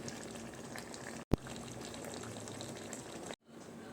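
Beef roast simmering in thick gravy in a pan, a steady soft bubbling and sizzling hiss close by, broken by a brief clatter and a short cut near the end.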